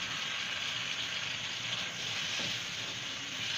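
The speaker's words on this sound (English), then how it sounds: "So I'm going to fry it till it gets very dried" Fresh tomatoes fry in a pan, giving a continuous soft hiss and sizzle that stays fairly faint and even throughout, with no voices.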